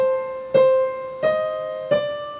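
A piano plays a short phrase from a piece, three clear notes struck at a steady, unhurried pace, each ringing and decaying into the next, with no talking.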